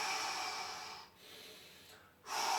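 Strong, breathy exhalations during an adductor stretch in a back and abs workout, two long airy outbreaths separated by brief pauses, close to the mic with no talking.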